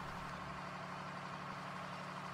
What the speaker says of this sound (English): this is an MR truck, and we're passing this guy